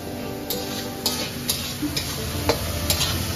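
Ingredients frying in oil in a large wok with salt, pepper, soy sauce and vinegar, a steady sizzle broken by sharp, intermittent scrapes and clinks of a stirring utensil.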